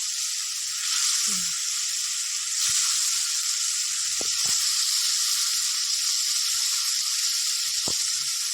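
Fried eggplant pieces go into a simmering yogurt gravy for vegetarian doi begun, producing a steady, even hiss and sizzle with a few soft thuds.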